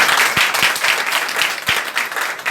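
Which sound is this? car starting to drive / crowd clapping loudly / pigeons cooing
crowd clapping loudly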